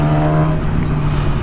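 A Yamaha YZF R6 motorcycle with a very loud aftermarket exhaust drones steadily at low revs, a constant close-up engine hum with a strong low tone and dense rumble, no voices on top.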